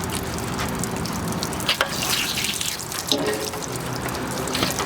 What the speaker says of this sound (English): Put that in, turn it on, and then just rinse it around inside.